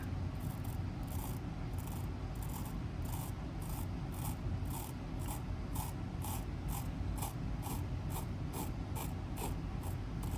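Blade cutting through a foam tire insert held in a trim jig, a steady rasping, ratcheting scrape with regular rhythmic pulses, close and continuous throughout.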